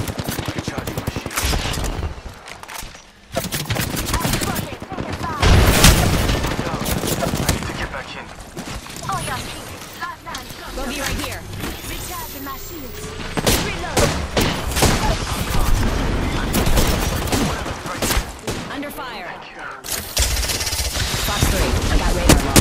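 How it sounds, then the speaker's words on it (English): Apex Legends gunfire during a match on the Storm Point map: dense, loud bursts of automatic fire and single shots rattle almost continuously, mixed with game voice callouts and other combat noise. "Getting shot at. I'm down. Box 3, taking fire."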